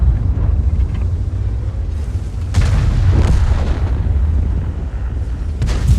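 An M6Y tank cannon fires in World of Tanks with heavy booming shots over a constant low engine rumble: one sharp blast near the middle, another softer thud, and a final burst at the end.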